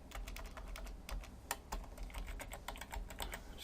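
Fingers type on a computer keyboard in a steady stream of close, crisp key clicks over a faint background hum.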